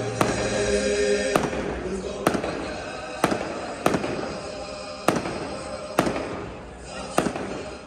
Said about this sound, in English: Then there were midnight fireworks.